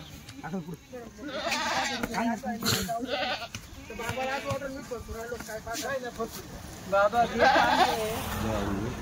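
Goats bleat repeatedly amid people talking nearby, the calls rising and overlapping with the chatter, louder toward the end.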